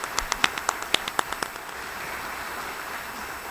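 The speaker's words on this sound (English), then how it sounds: "let's give all of our community partners an applause for all the work they do" A handful of scattered claps from an audience at the Oshkosh State of the City 2023 address, about ten sharp hand claps over the first second and a half, then dying away into quiet room ambience.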